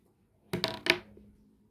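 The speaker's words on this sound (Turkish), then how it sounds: "En küçük oyuncu zarı atar." Two quick clattering knocks of small dice tumbling onto a hard surface during a board game, then quiet.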